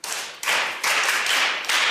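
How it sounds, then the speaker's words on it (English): Hands clapping in a few rhythmic bursts, close and fairly loud, each bout of claps separated by short gaps. "Clap your hands for him."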